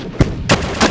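Artillery fire in the World War II strategy game Decisive Campaigns: Ardennes Offensive, three sharp, loud booming shots spaced about a third of a second apart, close and alone.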